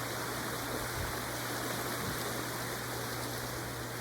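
A river running outdoors on a walk in the Sevierville, Tennessee area, giving a steady broadband wash of flowing water that stays even and fairly close throughout, with no talking.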